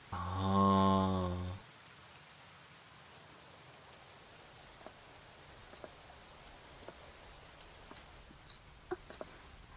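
Steady soft rainfall in the Fate/Samurai Remnant game world, a faint even hiss with occasional brighter drop ticks, opening with a short sustained tone before the rain continues alone.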